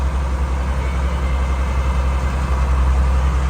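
A Unimog truck on large tires drives while breaking trail, its engine giving a loud, constant low drone throughout with no voices.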